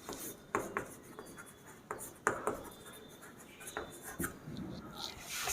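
Writing on a board during a chemistry lesson on IUPAC naming, heard as faint, close, scratchy strokes in short irregular bursts with almost no talking.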